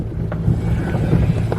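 A Belanger motor drives a brush inside a Sonny's/Belanger mini car wash tunnel, a low steady rumbling hum, close and fairly loud, with faint splashes and knocks over it.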